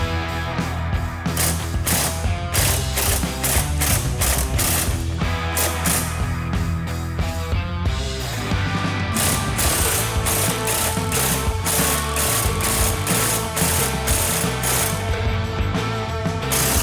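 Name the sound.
ratchet backing out 14mm hub bolts on Subaru Forester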